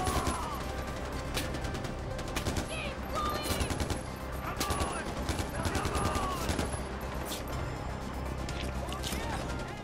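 Gunfire in Far Cry 4, rapid bursts of automatic shots crackling steadily throughout over a busy game soundscape, with people talking over it.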